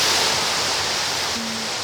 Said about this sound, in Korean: 한여름에도 차가운 기온이 가시지 않아 대둔산 제1의 명물로 불린다는 수락폭포